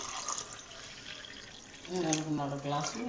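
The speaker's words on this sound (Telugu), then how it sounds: "మొత్తం 4 గ్లాసులు వాటర్ పోస్తున్నాం అన్నమాట ఫ్రెండ్స్" Water runs steadily from a tap into a cooking pot, rising in pitch toward the end as the pot fills.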